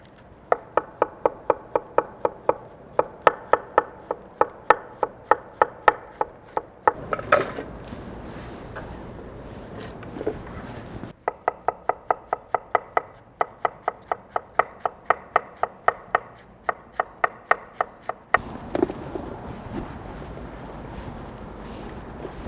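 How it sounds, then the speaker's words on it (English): Knife chopping through red and green cabbage on a cutting board, a fast steady run of crisp thuds in two long bursts separated by a short pause with lighter handling noise, close and clear with no talk. "We're gonna start by shredding up 4 cups each of red cabbage and green cabbage."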